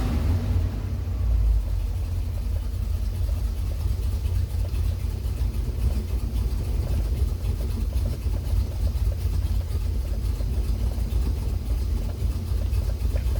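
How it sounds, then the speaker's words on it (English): A 1978 Ford F150 pickup idling low with the choke just pushed off, a steady deep rumbling exhaust throb that stays close and even throughout, with no voices. "She's idling low because I just kicked off a choke."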